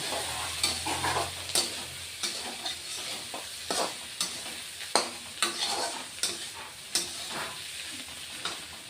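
Green chilies sautéing with mixed vegetables in a pan for a small-fish curry, a steady sizzle broken by repeated close spatula scrapes and stirring knocks at an uneven rhythm.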